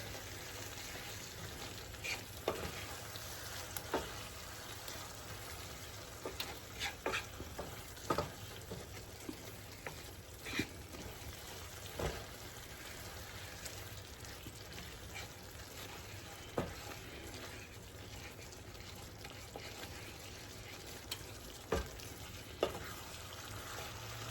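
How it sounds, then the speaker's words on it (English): Sautéed apples sizzling in a pan while being stirred, a soft continuous frying hiss with scattered scraping clicks and taps from the utensil, fairly quiet and close. "Just going to mix that up really good."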